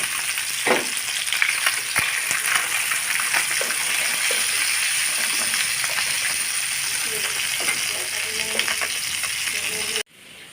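Rohu fish pieces frying in oil, a loud, close and steady crackle with spatula knocks and scrapes against the pan, ending abruptly near the finish.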